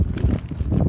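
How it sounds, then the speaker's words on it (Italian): Outdoor wind buffeting a microphone at an open-air stall of Asiago honey and preserves, a steady low rumble filling the short moment with no talk over it. "c'è un po' di vento, lo sentite?"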